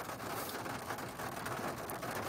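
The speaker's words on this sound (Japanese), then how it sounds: "雨降ってきてますね。" Steady rain falls during a stop at a coin laundry, a continuous even hiss of drops that stays constant throughout with no voices.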